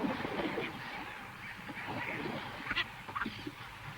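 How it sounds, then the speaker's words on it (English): Gannets call at a nesting colony on a coral cay: a dense, continuous chorus of harsh, honking cries from many birds at middle distance, with a few louder calls standing out near the end. "These are gannets."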